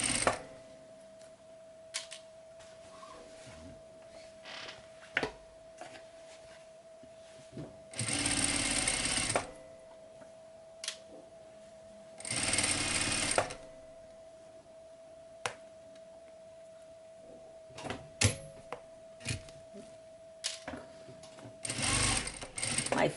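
A sewing machine runs in short bursts, stitching and backstitching fraying fabric for a rolltop backpack. Two louder sustained runs of rapid mechanical whirring stand out, with quiet ticks and handling noises between them and a steady faint hum underneath.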